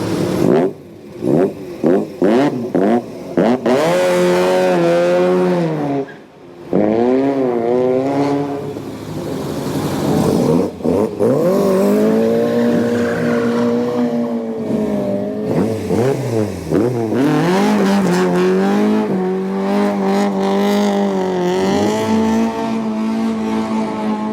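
Supercharged Ford Anglia engine revving hard at a Sunday morning car meet, loud rising and falling revs in repeated bursts, with other cars nearby and no talk.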